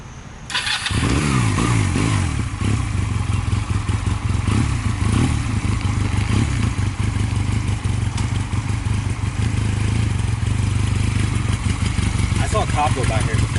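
Honda Rebel 250 motorcycle starting and idling close by, a loud steady low engine rumble with uneven revs, and people talk over it.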